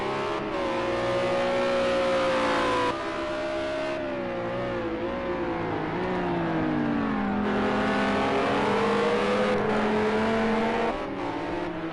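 GT3 race car engines from a sim racing game at the Algarve circuit, including a Lamborghini, rising and falling steadily through gear changes as they run down the hill, loud and continuous with no talk.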